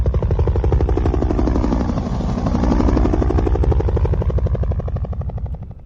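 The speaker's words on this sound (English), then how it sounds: "Can we get that chopper up?" A helicopter flies overhead, its rotor chop pulsing loud and steady throughout, swelling slightly toward the middle before easing off at the end; no voices.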